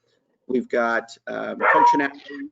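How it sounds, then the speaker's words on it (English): A pet dog barks and yips in short bursts at home, close and loud, overlapping a person who keeps talking through it. "that's my dog."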